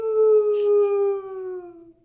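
A man imitates a coyote howl, cupping his hands and calling back in a single long, close, sliding voiced wail that holds steady, then falls and fades out over about two seconds.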